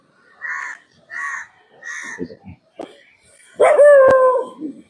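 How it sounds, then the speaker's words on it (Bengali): Dogs barking near a hotel area by the coast at Digha, a few short separate barks followed by a louder, drawn-out howling bark, fairly close and without talk. "এখানে আমার কুকুরগুলো ঘেউ ঘেউ করছে"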